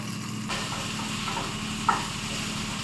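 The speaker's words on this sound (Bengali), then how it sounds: "আলু আর ডুমুরটা একটু ভাজতে বসিয়ে দিয়েছি" Potatoes and figs frying in a pan give a steady, low sizzle throughout, with one brief clink near the middle and no talking.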